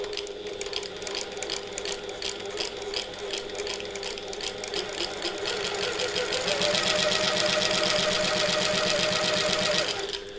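A sewing machine stitches fabric around the corners of a button lock bag, a steady rapid mechanical whir that runs throughout, close and alone, growing a little louder and faster toward the end.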